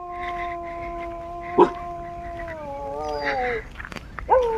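Dogs howl in long drawn-out wails with a short sharp bark between them, carrying clearly over a quiet rural outdoor background in the Konkan countryside.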